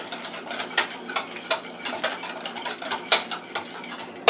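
A utensil mixes pot roast ingredients inside a Power Pressure Cooker XL pot, giving a steady run of close, moderately loud scrapes and clinks that recur roughly every half second, with no voices.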